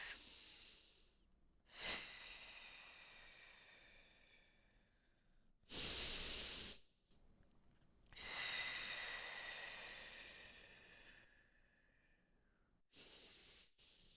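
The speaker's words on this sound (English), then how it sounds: "longer breath pattern here in through your nose. Exhale out the mouth." Slow, deliberate breaths from a person doing a full front splits stretching routine, drawing air in through the nose and letting it out through the mouth; several long, hissing breaths near and clear, separated by quiet pauses, with no talking.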